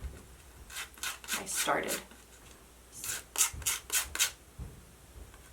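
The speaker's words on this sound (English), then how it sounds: "so I am filing off some of the hard seed coating" A hand file rasps against a hard seed coat, removing the dark outer layer before sowing cut-flower seeds; two bursts of short, close scraping strokes with a quiet gap between, and a few words spoken.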